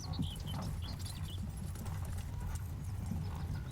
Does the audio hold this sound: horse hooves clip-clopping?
yes